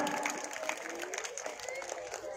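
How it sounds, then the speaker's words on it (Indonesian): An audience claps for group 5 at a pesantren awards ceremony of Islamic devotional songs, a steady moderate applause with crowd murmur and speech-like sounds mixed in. "Beri tepuk tangan untuk regu 5 atau kelompok 5."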